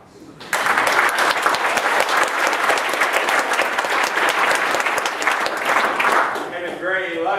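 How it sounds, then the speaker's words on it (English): A crowd at a political speaking event breaks into sustained applause after a brief quiet start. Dense clapping holds steady, then thins near the end as a voice begins speaking. "So you deserve your own applause."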